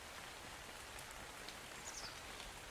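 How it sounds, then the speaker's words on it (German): Rain in the video game ARK: The Island, a faint, steady hiss of falling drops with no talking, continuous throughout. "Oh, jetzt regnet."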